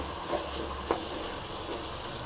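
Chilies and ginger fry in a pan with a steady, faint sizzle and a couple of light stirring clinks, heard alone.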